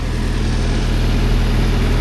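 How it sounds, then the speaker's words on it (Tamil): A diesel engine on a refrigerated trailer unit runs with a loud, steady low throb and even pulsing rhythm under broadband mechanical noise, close and constant for the whole stretch. "Diesel engine starting. இது ஆன் ஆன உடனே நல்லா சவுண்டு வரும்."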